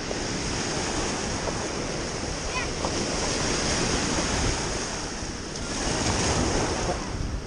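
Ocean waves wash steadily onto the shore in a loud, continuous roar of surf, with wind buffeting the microphone throughout and no talking.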